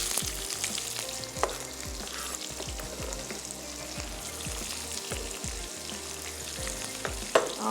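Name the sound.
sliced onions added to frying pan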